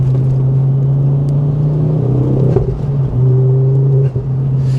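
A Ford Focus RS MK2 engine idles and pulls away, a steady low droning hum from close by with a slight swell of revs midway and no talking.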